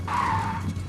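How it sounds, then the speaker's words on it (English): A car's tires skid under braking with a short, loud, steady screech of just under a second, close and alone over low engine noise. "And with that, Sly touches the brake"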